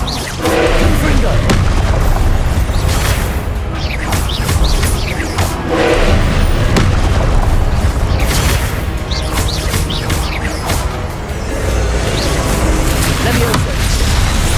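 Repeated blasting-spell explosions from Hogwarts Legacy on PS5: loud booming bursts that recur every few seconds over a busy game soundscape, with a voice talking in between.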